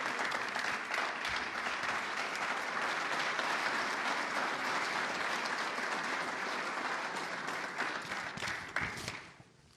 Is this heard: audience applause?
yes